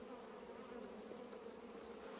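Honeybees buzz around an opened hive during a spring inspection, a soft, continuous droning hum close by with no talking.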